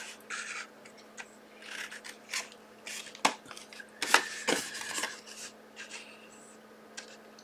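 Scissors cutting through bulky patterned card for a handmade pop-out gatefold birthday card, several close, quiet snips and rustles of the paper under a steady low hum.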